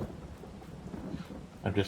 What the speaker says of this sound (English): This rain kind of sucks